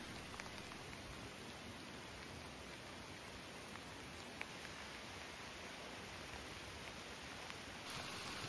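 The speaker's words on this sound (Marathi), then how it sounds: "पावसाच्या सरी अलगद कोसळत आहेत." Monsoon rain showers fall in the Sahyadri hills as a soft, even hiss, faint and distant with no voices.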